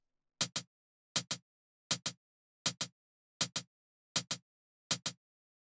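A hi-hat beat at 80 BPM with a 20% swing: seven evenly spaced pairs of crisp, close strikes, each pair a slightly uneven double tap, played alone against silence.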